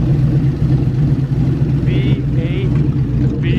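An old V8 BMW engine idles with a deep, steady rumble close by, loud and constant in a parking lot, while a brief squeaky whine sounds a few times above it.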